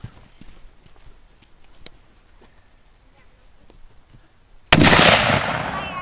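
A single loud, sharp shot from a Mossberg 800B .243 bolt-action rifle fired outdoors, ringing out with a long decaying tail after several seconds of quiet background with faint rustling.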